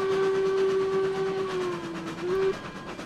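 A steam locomotive's whistle blows one long, loud, steady tone that dips slightly near the end as the train rolls out of the station in the RailRoads Online video game, with rumbling running noise underneath.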